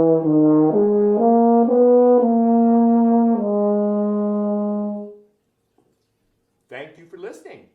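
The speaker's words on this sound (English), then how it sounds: "There's also a smaller tuba. It's called the euphonium that sometimes gets to play in the orchestra." A solo euphonium plays a short, mellow phrase of sustained notes stepping through a small melody, warm and close, fading out around five seconds before a brief burst of audience noise at the end.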